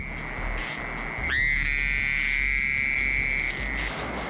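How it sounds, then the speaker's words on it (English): Male North American toad giving a long, steady trilling call at night, a sustained high buzzing note that starts abruptly and holds for about two seconds over a constant low background hum. "As night falls, male North American toads call out to females."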